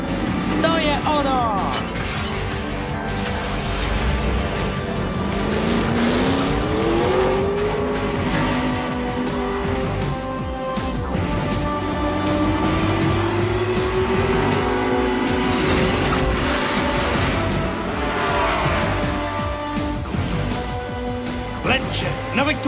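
A NASCAR race car roars loudly and steadily with rising and falling engine pitch, sharp tire squeals and skids cutting through across the whole stretch.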